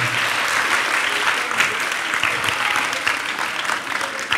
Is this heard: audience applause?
yes